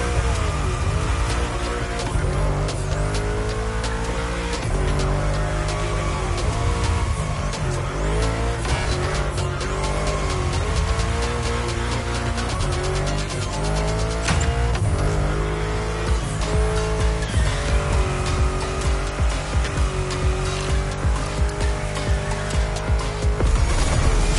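Car driving in The Crew Motorfest racing game: a loud, continuous engine roar with tire squeals through the bends, running steadily for the whole stretch.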